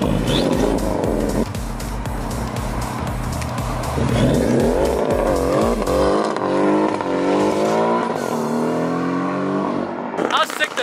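Lamborghini Aventador SV sports car revving hard and pulling away, a loud rasping engine note climbing and shifting through gears, with tire noise and people talking over it nearby.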